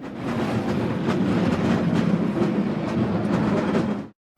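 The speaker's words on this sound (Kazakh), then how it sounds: "Трамвай." A tram rolls past close by in a continuous loud rumble with rhythmic rail clatter for about four seconds, then stops abruptly into silence.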